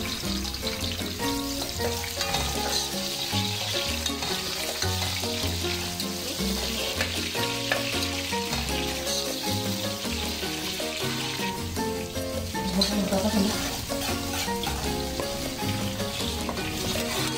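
Garlic and onion fry in a pan for a Filipino pochero, sizzling steadily and closely for the whole stretch, with faint stirring over the constant crackle.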